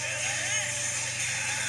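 A Kamen Rider Gaim toy trumpet weapon set to high pitch gives off a shrill, wavering electronic tone that is loud and continuous for under two seconds.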